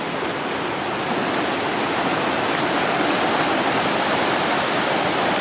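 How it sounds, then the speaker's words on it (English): The River Avon in Scotland rushes past a wild camping spot, a loud, steady, broadband roar of flowing water that stays constant throughout, close by and with no voices. "The River Avon. Avon calling."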